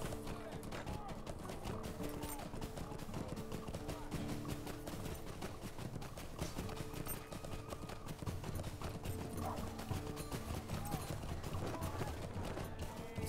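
In the Lord of the Rings Online game, a horse's hooves clop at a steady gait, soft and continuous under background music, with a voice talking at times.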